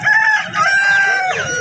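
A rooster crows loudly and close at a village poultry market in Balarampur, one long strained call that breaks and trails off, heard clearly over faint background noise.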